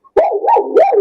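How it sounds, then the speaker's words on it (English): Hound dogs bay on the trail, a loud close sound effect of two or three rising, wavering howls in quick succession with a short pause before the first. "hound dogs on the trail."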